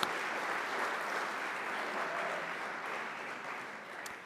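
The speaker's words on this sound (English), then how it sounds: "a round of applause for Mark, and if you see him, we'll give him another round of applause." An audience applauds at a civic association candidates night, steady clapping from a roomful of people at moderate distance, sustained evenly and tapering slightly at the end.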